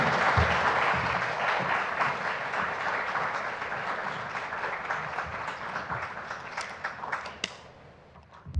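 An audience applauds a lecturer being welcomed at a botanic garden talk, dense steady clapping that slowly thins and fades toward the end, with a few scattered last claps.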